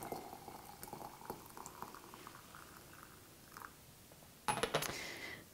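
Water boiling in a kettle or pot while tea is being prepared, a soft bubbling and hissing rumble with light clinks and a brief louder burst of sloshing near the end, fairly quiet and close.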